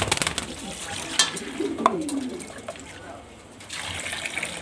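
Pigeons coo softly while being bathed, with water splashing and running around them; a voice talks over the scene at close range.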